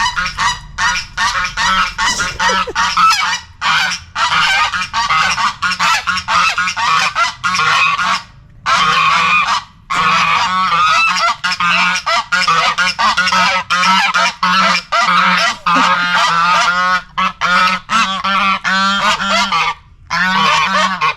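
A flock of geese in the Dominican Republic honks loudly and almost nonstop, many harsh overlapping calls close by with only brief pauses.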